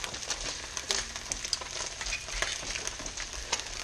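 Duck eggs and three slices of bacon fry in a skillet after the heat is shut off, a steady close crackle with scattered sharp pops and spits.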